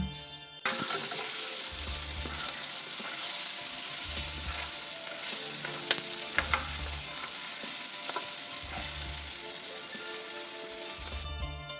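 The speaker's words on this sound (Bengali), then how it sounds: "পেঁয়াজটা কিন্তু একদম লাল লাল করে ভেজে নিতে হবে" Chopped onion frying in hot oil in a wok with black cumin seeds, a steady bright sizzle throughout, punctuated by a few sharp spatula scrapes and clicks, with a low rhythmic hum underneath and no talking.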